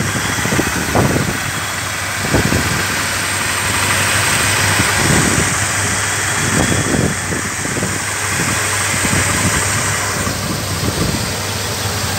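A Chevrolet 350 V8 with a scored cylinder head runs steadily at idle nearby, a continuous low rumble with a broadband mechanical hiss and occasional soft knocks, no voices.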